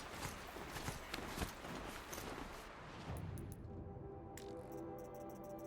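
A damaged robot horse mount in Horizon Zero Dawn gallops with a quick run of hoof-like clatters, giving way to sharper metallic clicks and fainter, sparser steps toward the end.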